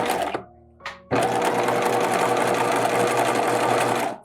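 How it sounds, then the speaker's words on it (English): A sewing machine backstitches a bodice dart: two short stitching bursts, then a long steady run of close, loud needle chatter that carries on evenly to the end, with no voices. "Okay, so back stitching."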